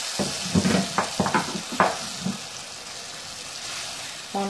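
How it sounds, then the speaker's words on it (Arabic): Tomato juice is poured slowly into a pan of frying onions, and the hot oil sizzles and spatters in a burst of crackles that then settles into a softer, steady frying hiss. "هنبتدي بقى نحط عصير الطماطم اللي معانا بالراحه كده"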